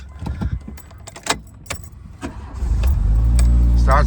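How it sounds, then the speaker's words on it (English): Keys jangle and click in the ignition of a 1985 Chrysler Laser with a 2.2 turbo engine, then the engine cranks, catches and settles into a loud, close idle. "Starts right up and runs nice."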